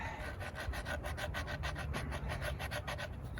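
A redwood stick is scraped into sawdust with rapid, rhythmic rasping strokes, about five per second, close and steady without any talking.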